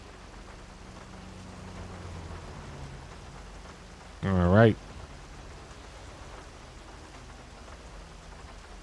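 Steady rain falls in the video game GTA 5, a soft continuous hiss that runs throughout, with a voice briefly speaking over it midway.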